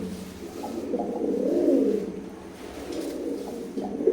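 Imported Teddy pigeons of an Oman bloodline give soft, rolling coos that swell and fade in two long phrases, close and fairly quiet against a still background.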